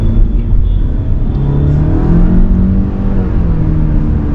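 A car engine in manual mode revs and holds high near 6,500 RPM, a loud steady drone with rising harmonic whine, heard from inside the car.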